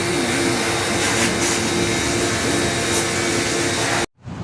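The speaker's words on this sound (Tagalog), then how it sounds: "Guys, blower na po. Nag-blower na po yun." An air blower drying a window-type or split-type air conditioner after general cleaning, a loud steady whooshing roar that runs continuously and then cuts off abruptly near the end.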